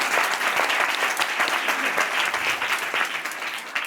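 A seated audience at a public speaking session bursts into loud, sustained applause, many hands clapping densely and evenly throughout with no pause.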